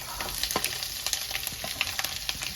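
Small onions fry in a pan with an even close sizzle, punctuated by frequent light scrapes and clicks from stirring, no voices over it.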